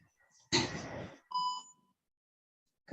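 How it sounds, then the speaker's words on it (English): A short electronic beep on a public hearing call before a speaker unmutes, a brief tone among sparse faint talk, heard quietly over the line. "you will hear a beep before you begin your testimony"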